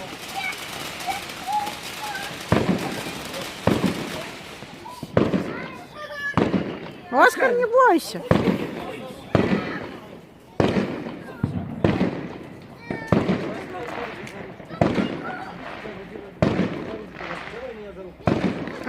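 Small backyard fireworks display on Bonfire Night beside a house in England, with a series of sharp bangs and crackling bursts recurring every second or two, fairly close and loud, while people talk and soothe a dog named Oscar between explosions.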